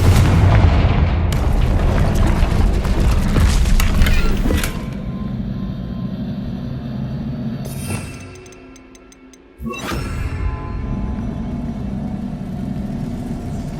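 Confringo blasting spell from Hogwarts Legacy on PS5, a loud booming blast with mechanical creaks and rumbling debris, fading into a short lull before another dense burst of crashing noise.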